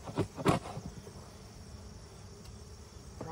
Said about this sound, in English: I got a bunch of bees all over in the box.